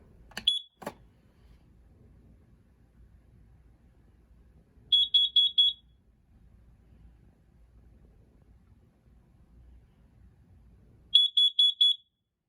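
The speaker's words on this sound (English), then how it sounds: "Upstairs hallway carbon monoxide alarm" A 10-year sealed carbon monoxide alarm in an upstairs hallway sounds its test pattern, two short bursts of rapid high-pitched beeps separated by several seconds of quiet, after a brief chirp at the start.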